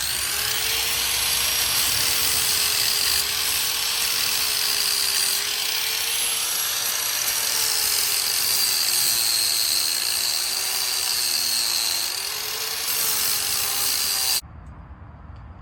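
A grinder works steadily on the welds of a broken trailer, giving a continuous high whine with slight wavering pitch that runs loud for about fourteen seconds before cutting off abruptly, leaving quiet room noise.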